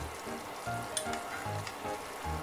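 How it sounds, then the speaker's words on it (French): A diable sauce for chicken thighs reduces in a hot pan, giving a close bubbling sizzle broken by stirring strokes and soft scrapes in an uneven rhythm, with no talking. "là je vais bien réduire ma sauce"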